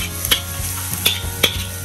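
Garlic sautés in a pan with a steady sizzling hiss while a utensil stirs it, giving three or four light scraping knocks.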